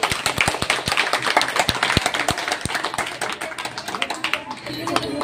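An audience claps at a live magic trick demonstration, with sharp, uneven claps that are close and distinct and then thin out, while voices talk over them.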